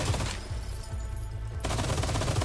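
Turret gunfire in Resident Evil 4, a loud rapid burst of automatic shots, a brief pause, then another sustained volley of fast repeated thuds.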